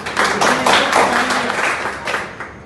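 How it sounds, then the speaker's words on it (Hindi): Audience clapping at a honey bee sting safety and awareness workshop, a short burst of uneven hand claps that thins out toward the end, with a faint voice underneath. "अजय जी के लिए जोरदार तालियां"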